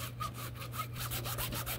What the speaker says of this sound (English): I'm gonna file it down a bit